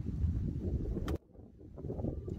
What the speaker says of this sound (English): the wind's blowing into us now